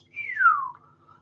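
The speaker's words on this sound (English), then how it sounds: "I shouldn't whistle with the microphone there" A single short whistled note glides downward close to a microphone, clear and alone over a faint background hum.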